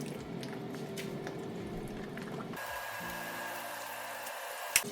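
Sichuan sausages cooking in oil give a steady low sizzle and bubbling that drops to a quieter hiss halfway through, with a faint click near the end and no voices.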